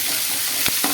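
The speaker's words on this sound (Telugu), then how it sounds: "ఈ తాలింపు సరుకులు కూడా మనం ఇందులో వేసేసుకుని చక్కగాను ఇవి కూడా లైట్గా ఫ్రై అయ్యేదాకా అలా వేపుకోవాలండి" Tempering spices such as chana dal and mustard seeds fry in oil in a pan for buttermilk rasam, giving a close, steady sizzle with a couple of brief stirring scrapes and no voices.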